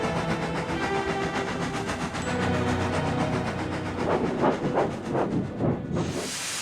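A steam train chugs along with rhythmic puffing and a steady hiss, the exhaust beats growing more distinct toward the end.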